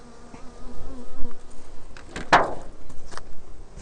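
Honeybees hum around an open Langstroth pallet hive, a close, wavering buzz that swells and fades as individual bees pass near, with a brief sharp knock partway through.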